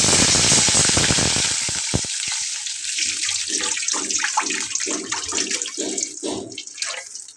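Cold water pours into a cooking pot for a sea-fish curry with eggplant and green chilies, starting as a loud rushing stream that tapers into softer splashes and gurgles as it settles, with no talk.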